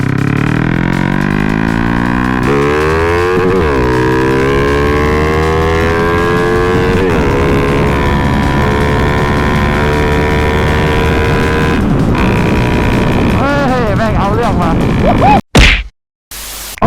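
A tuned 66mm four-valve fuel-injected engine on a used car pulls steadily while driving, its harmonic drone rising and falling through gear changes, loud and close, with a sharp thump and brief cut near the end.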